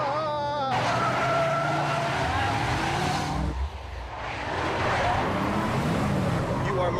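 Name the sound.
car driving fast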